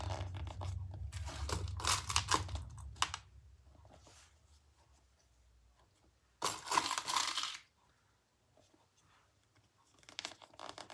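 Plastic sewing clips snapped on around a zipper along slippery fabric give brief clicky, rustling bursts with quiet gaps between them, close and fairly soft, with no talking.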